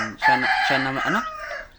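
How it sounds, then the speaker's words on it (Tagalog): A rooster crows once, close and loud, a full cock-a-doodle-doo lasting under two seconds. "Papakita ko lang sa inyo yung bago kong manok."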